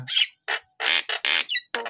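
A captive-bred jalak starling gives a series of harsh, loud squawks in short bursts, close by and alone with no talking or background noise.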